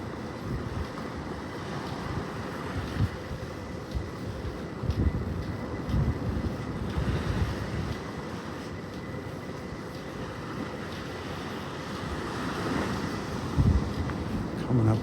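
Steady broadband surf washes along Vanderbilt Beach in North Naples, Florida, at low tide on a cool morning, mixed with wind rumble on the microphone and occasional louder wave surges.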